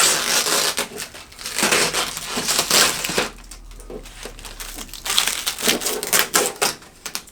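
Packing tape peeling and crinkling off a new Epson F570 printer during unboxing, loud close ripping and crackling bursts in an irregular run with brief pauses.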